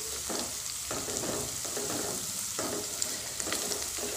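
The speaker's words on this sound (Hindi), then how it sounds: "प्याज को मैं अच्छे से भून लेती हूँ।" Onions frying in a pan for a Rajasthani kantola sabzi, giving a steady sizzle broken by several scraping stirs at irregular intervals, close and moderately loud, with no talking.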